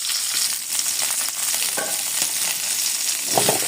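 Cauliflower, pumpkin and green chillies fry in a pan with a steady, close sizzle and faint stirring clicks throughout, no voices.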